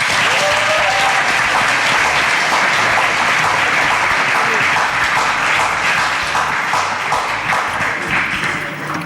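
Loud, sustained audience applause from a studio crowd, dense continuous clapping filling the space for several seconds before tapering slightly at the end.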